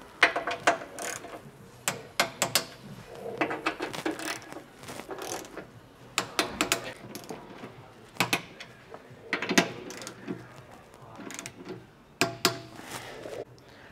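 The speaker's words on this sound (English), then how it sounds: "Now we can go ahead and torque these down to 22 foot-pounds." Ratcheting torque wrench tightening skid plate bolts on a third-generation 2022-or-later Toyota Tundra TRD, heard as repeated bursts of close, crisp mechanical clicks separated by short pauses.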